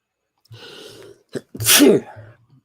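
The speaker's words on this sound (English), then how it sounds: "I got a little snort or a sneeze." A single loud sneeze bursts out after a short breathy intake, close to the listener, followed by a brief quiet tail.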